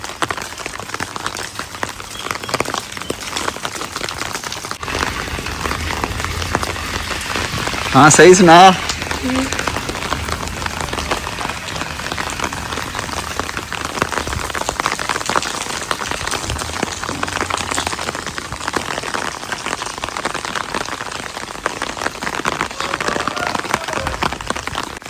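Heavy rain pours steadily outdoors in a rural area, a dense, close hiss on surfaces that lasts throughout while someone talks over it.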